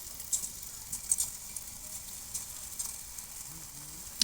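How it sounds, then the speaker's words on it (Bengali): Boondi batter dropped into hot oil sizzles and patters softly and continuously, a quiet close-up fizz with small crackling pops. "এই দেখুন বোঁদেগুলো ঢেলে দিয়েছি, তার শব্দ আসছে।"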